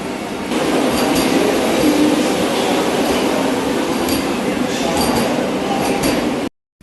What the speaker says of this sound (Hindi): ये वंदे भारत ट्रेन जो है ये स्टेशन पे अब लगाई जा रही